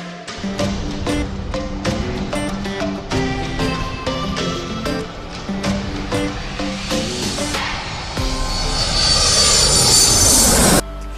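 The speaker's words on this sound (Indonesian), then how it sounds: "Sekarang saatnya kita berpetualang menggunakan pesawat terbang." An airplane from a children's educational TV adventure segment: bright rhythmic music plays first, then a loud, steady engine roar swells over the last few seconds.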